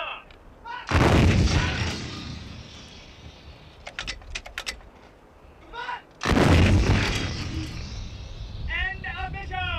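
Artillery guns firing during a fire mission in Southern Arabia, Yemen: two heavy booming blasts with rumbling tails several seconds apart, loud and close, with commands spoken between the shots.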